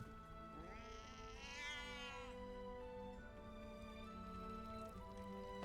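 A cat meows in the video game Baldur's Gate 3, one drawn-out wavering meow early on over a quiet, rain-like ambient background.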